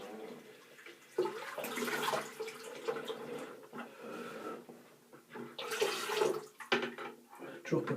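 Tap water runs into a sink while someone splashes and rinses their face after a shave with a Merkur 34c HD safety razor. Uneven gushes and splashes rise and fall close by.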